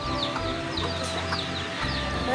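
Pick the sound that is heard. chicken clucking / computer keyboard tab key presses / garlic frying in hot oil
chicken clucking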